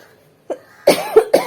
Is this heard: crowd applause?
no